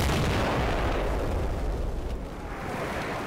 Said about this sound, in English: The only firing is done by my own artillery.